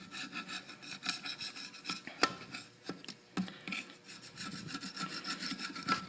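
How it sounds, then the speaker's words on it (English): Old gasket material being scraped off a GM 4.3L engine block, a dry rasping rub repeated in quick uneven strokes with a few sharper scrapes, close and fairly quiet, no voices. "get it real clean, get all this stuff scraped off"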